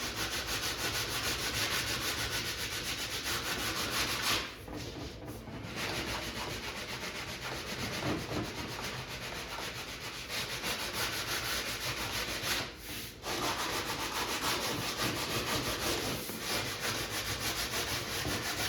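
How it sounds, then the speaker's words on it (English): Sandpaper rubbed steadily along the laminate edge of an arcade cabinet, a continuous close scraping with two brief pauses, no talking. "we're gonna take this sandpaper and we're gonna keep sanding this down"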